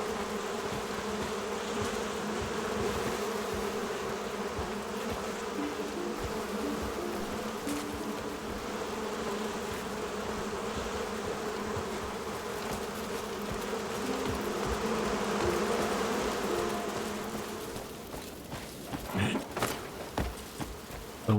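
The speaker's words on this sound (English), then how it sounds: "So this is the Hollengarth Apiary right here. Lots of bees." Swarm of bees droning continuously around an apiary in the video game Crimson Desert, a dense steady buzz throughout with a few brief clicks near the end.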